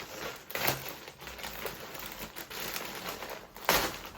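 A plastic parcel of Temu bags is pulled open, giving soft, close crinkling and rustling with a couple of sharper crackles, all fairly quiet and without talk.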